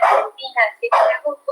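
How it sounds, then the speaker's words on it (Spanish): A dog barks in short, close bursts indoors during a Spanish-language online seminar, its yaps falling between and over a man's steady speech. "Perdón por mi perro que está aquí ladrando"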